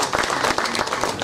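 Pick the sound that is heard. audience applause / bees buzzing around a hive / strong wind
audience applause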